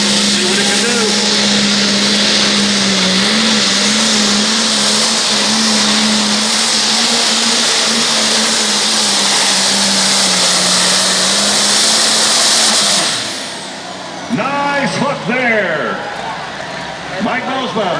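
Turbocharged limited pro stock truck with a single turbocharger, 4.1-inch inlet and 4.5-inch outlet, roars loudly and steadily at full power during a tractor pull in Monticello, Iowa, then cuts off as an announcer talks over crowd noise.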